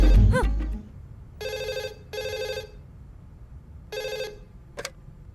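An old-style telephone bell rings in three bursts separated by pauses, loud and close, with a brief thump at the start and no speech.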